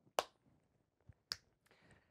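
Two sharp, crisp finger snaps about a second apart, close and clear in a quiet room, with a faint softer tap between them and nothing else around.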